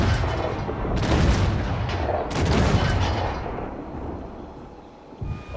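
Fort cannons in Assassin's Creed 4 fire booming blasts that roll and overlap in a dense, rumbling barrage, fading somewhat toward the end.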